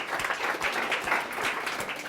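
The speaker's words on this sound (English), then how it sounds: "So, round of applause for everyone, because it's an extraordinary achievement." An audience at a talk claps for the APG paper writers, dense steady applause from many hands filling the whole moment without any voices.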